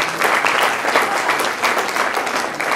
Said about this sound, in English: So big applause